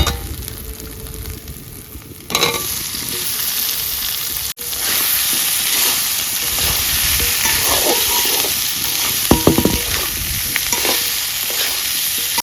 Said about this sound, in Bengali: মশলা কষানো হয়ে গেছে আর আলুটা দিয়ে দেবো